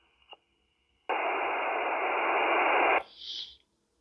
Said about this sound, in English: This is a test of the Retevis MB2 CB on AM.